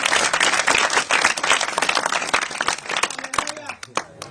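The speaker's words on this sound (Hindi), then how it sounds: "जोरदार तालियां" Loud applause from an audience at a church gathering, a dense wash of clapping that swells for several seconds, then thins and fades to scattered claps at the end.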